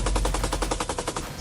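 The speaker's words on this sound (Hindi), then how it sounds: "ये लड़ाके मशीन गन से गोलियां बरसा रहे हैं।" Machine gun fire from fighters on the Zaporizhzhia front in Ukraine, a rapid, loud rhythmic burst of about a dozen evenly spaced shots, heard alone.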